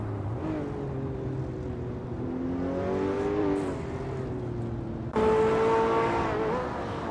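2006 Lamborghini Murcielago racing engine in a video game, a sustained engine drone with shifting pitch as it revs and changes gear, surging louder partway through.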